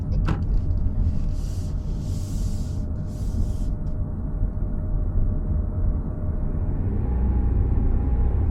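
Toyota Prius hybrid pulling away from a stop, a steady low rumble of road and drivetrain noise that swells slightly near the end as the petrol engine starts, with a faint whirring tone throughout and brief hissing bursts early on.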